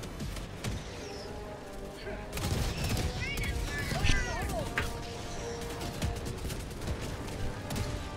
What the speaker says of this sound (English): Ooh, mortars coming in.